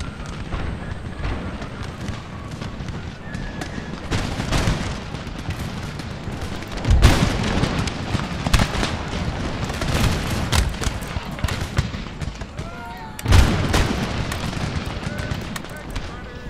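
Musket volleys and artillery roar across a battlefield in Empire: Total War, with continuous crackling gunfire punctuated by two heavy booming blasts, while someone speaks intermittently over the din.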